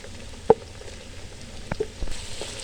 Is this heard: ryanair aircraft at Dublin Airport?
no